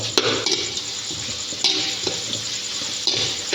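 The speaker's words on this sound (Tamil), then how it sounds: "ஆட் பண்ணிட்டு நல்லா மிக்ஸ் பண்ணி விட்டுப்போம்." Onion stirred into garlic, ginger and chili frying in oil for a ladies finger and yogurt curry, a steady close sizzle broken by several scraping stirs of a spoon against the pan, with no voices.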